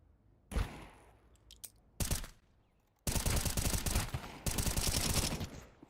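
Pistol fire in a Counter-Strike match, a few separate sharp shots early, then dense rapid bursts of gunfire packed together over the final seconds.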